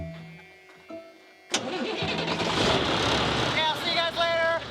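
Diesel engine in a 1993 truck cranks and fires up after a quiet start, then settles into a steady loud idle, close by, with people talking over it.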